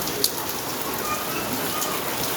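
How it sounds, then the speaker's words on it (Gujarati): Heavy rain pours down in a steady, dense wash of droplet noise, close and unbroken, with one brief tap near the start and no voices. "જોઈ શકો તમે લોકો વરસાદ ફૂલ ચાલુ થઈ ગયો."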